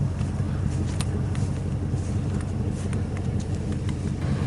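An old pickup truck engine idles with a steady, close, low rumble and some wind noise outdoors, with no talk over it.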